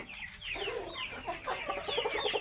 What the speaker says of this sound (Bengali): খুবই ভালো গ্রোথের একটা মুরগি দেখেন মাশাল্লাহ, খুবই বড় মুরগি।